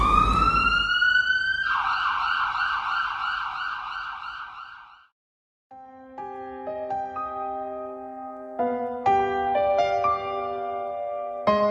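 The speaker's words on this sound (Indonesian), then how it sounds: "Seberapa cepat ambulans datang, tidaklah akan mengembalikan nyawa Hani" An ambulance siren wails loudly during a student school performance, holding a steady two-tone sound for several seconds, falling silent briefly, then giving way to layered tonal music.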